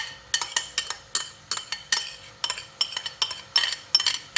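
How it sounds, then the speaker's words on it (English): A utensil stirs chopped onions and garlic in a pan, giving a steady run of close, light scraping clinks in a regular rhythm, with no voices over it. "And then stir it for about 2 to 3 minutes."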